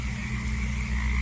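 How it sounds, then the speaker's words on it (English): Several frogs croak steadily as a theatre sound effect, a dense continuous chorus with no voices over it. "those are frogs, but I think we will soon hear it now"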